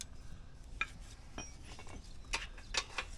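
Ratchet strap being cranked tight around a front axle during a home tire change, a few sharp clicks and clinks spaced irregularly over a low background hum.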